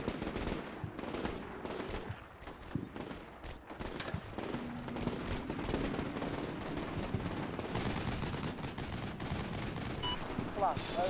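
Rapid machine-gun bursts and scattered rifle shots crackle through a battle in the modern military strategy game Combat Mission Shock Force, with dense, overlapping volleys and distant booms continuing steadily throughout.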